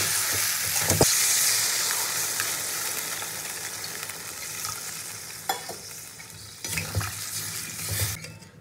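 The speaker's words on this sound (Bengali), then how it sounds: "এবার আমি অল্প করে জল দিয়ে দেবো।" Spiced broccoli, potato and pea curry sizzles steadily in a pan, with a loud hiss and bubbling as water is poured in, and a few sharp stirring clatters partway through.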